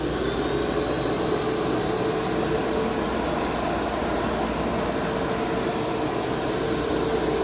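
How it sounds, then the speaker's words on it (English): A floor cleaning machine runs over a vinyl floor with a steady, loud whooshing hum and hiss, unbroken throughout and heard up close with no voices. "I'm going to go ahead and turn the machine on"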